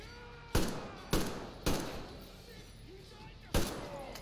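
Enemy gunfire in the game Metro Exodus: four sharp, loud shots at irregular intervals, each followed by a short decaying echo, with quieter background noise in between.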